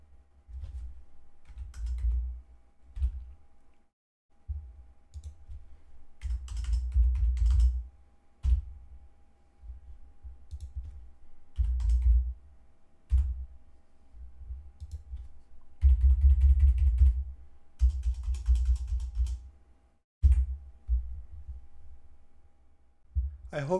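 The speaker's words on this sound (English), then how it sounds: "either pressing K for kilohertz or M for megahertz on your keyboard" Digits being typed on a computer keyboard while entering a radio frequency in SDR software: bursts of close key clicks in uneven runs, with a steady faint hum underneath and no talking.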